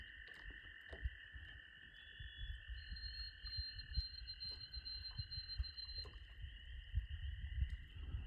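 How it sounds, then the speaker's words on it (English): American toads trill in long, sustained, steady tones on a late-May evening at Kapikik Lake, with spring peepers calling faintly and continuously in the background. "You can hear the trilling of the American toads in the background, plus the spring peepers."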